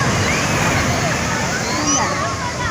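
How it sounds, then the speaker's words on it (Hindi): Loud, rough sea surf at Turtle Beach in Karachi on a hot day, a continuous sloshing wash of breaking water that fills the whole clip, with faint crowd babble mixed in. "इतना शोर शराबे वाला पानी है"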